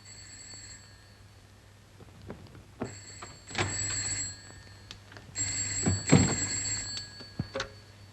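An old-fashioned telephone bell in a 1940s British home rings in three separate bursts of bright, metallic ringing, with short quiet gaps between them and a low steady hum underneath.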